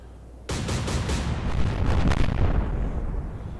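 A destroyer hit and going down in a naval war video game: a sudden heavy explosion after a moment of near quiet, then a rumbling roar of fire and bursts sustained to the end, loud and close.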